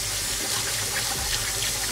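Tap water runs steadily into a sink while a Melin Hydro hat is washed, a continuous close splashing hiss with no talk over it.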